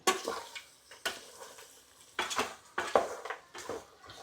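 Fried cashews are stirred into a dish with a metal spoon, making a series of light clinks and scrapes against the pot in an uneven rhythm, fairly faint and close.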